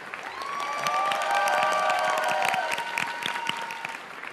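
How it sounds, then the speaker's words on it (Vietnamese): A studio audience at a Vietnamese televised singing show breaks into loud, sustained applause, a dense and steady wash of clapping with some cheering that holds for several seconds. "Vỗ tay mạnh lên."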